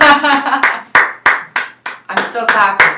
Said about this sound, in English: I'm still clapping.